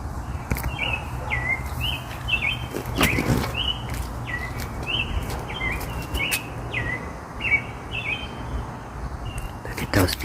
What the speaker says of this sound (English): Just gonna enjoy the birds singing.